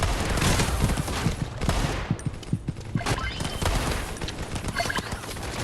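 Rapid gunfire from the FPS mobile game Pixel Gun 2, dense bursts of shots and clattering impacts filling the mix continuously, loud and close, with faint game effects between volleys.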